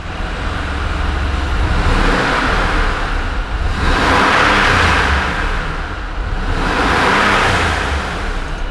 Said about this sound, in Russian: Забыл вам показать, как эта тачка звучит до.